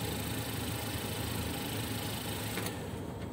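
Car engine idling steadily with a continuous hum, then abruptly cutting out near the end as the battery is disconnected during an alternator check, leaving quiet.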